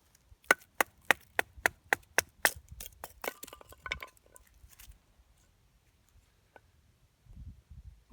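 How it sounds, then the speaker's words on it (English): Fat wood split by batoning a knife through it outdoors, a quick series of about eight sharp, evenly spaced wooden knocks followed by cracking and splintering, then quieter handling and faint rustles. "I'm going to split a piece of fat wood, baton it down"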